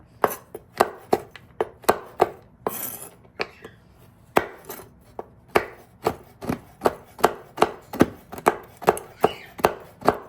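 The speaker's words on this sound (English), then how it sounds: "At this point, we're gonna roughly chop them up" A knife roughly chopping sugar-free chocolate on a board for gluten-free cookies, with steady, sharp, near chops repeating in a quick, fairly even rhythm across the whole stretch.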